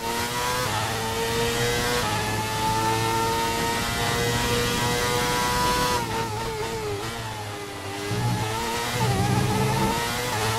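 Formula 1 car engine in the racing game F1 2019, a loud, high screaming whine that climbs through the gears, dips on a downshift around a chicane and then revs back up, with no talk.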